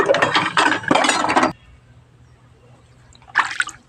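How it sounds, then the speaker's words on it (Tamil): Water splashes and swishes over brass utensils in two short bursts, with a quiet gap between them and a faint clink at the end. "இப்போ எல்லாத்தையும் வந்து தண்ணி வந்து க்ளீன் பண்ணி எடுத்துருவோம்"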